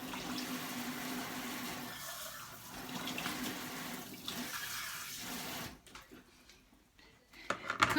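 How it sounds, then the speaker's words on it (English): Tap water runs steadily into a sink while a spiralizer is rinsed beneath it, the stream breaking and splashing unevenly, then cutting out and leaving a few clinks and drips near the end. "So I'm going to give this a quick rinse."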